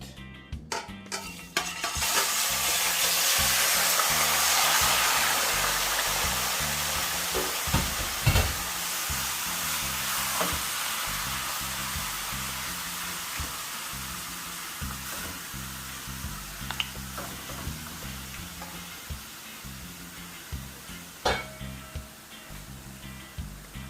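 Pork meat hits hot oil in a pot for Jamaican-style brown stew pork, a loud burst of sizzling that slowly settles into a steady fry, broken by scattered clinks and scrapes of utensils against the pot.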